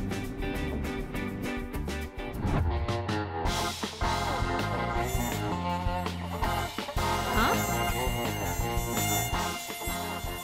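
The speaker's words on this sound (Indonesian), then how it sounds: "Apa ada nyamuk di sini?" A cartoon mosquito whines and buzzes over busy background music, its thin high drone weaving in and out for several seconds without any talking.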